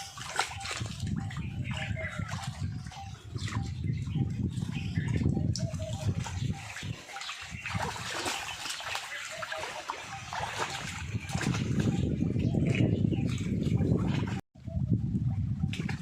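Continuous splashing and sloshing water as people bathe in a water tank, close by, with bursts of movement and faint voices mixed in.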